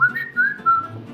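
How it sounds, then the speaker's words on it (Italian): A person whistles three short, clear, sliding notes up close, loud and alone, with each tone rising and then falling away. "Questo è il fischio, penso."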